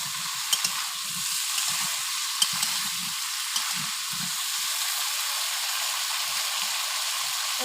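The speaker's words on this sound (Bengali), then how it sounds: "এই দেখুন পুঁই শাক আলু একটু লাল লাল করে ভাজতে হবে।" Potatoes and Malabar spinach fry in oil with a steady, bright sizzle and hiss, broken by a few faint clicks and soft low bumps of stirring, with no one talking.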